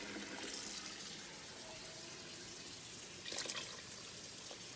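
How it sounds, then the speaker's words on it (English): Water runs from a kitchen sink tap as a steady, faint hiss close by, with a short louder splash partway through. "Then we will come over to the sink and get water"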